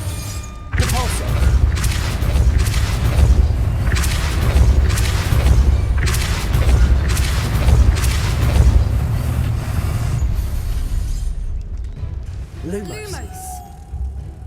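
A Repulsor spell cast in Hogwarts Legacy produces a heavy booming burst followed by repeated thudding blasts, loud and close, trailing off into quieter rumbling and a few chirping magical tones near the end.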